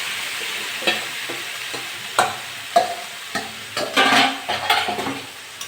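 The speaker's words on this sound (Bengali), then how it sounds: "এটাকে নেড়ে চেড়ে নেবো।" Chicken and potato curry being stirred in a pan, a spoon scraping and turning the meat in a steady rhythm of soft knocks over a low, continuous sizzle, close and moderately loud with no talk.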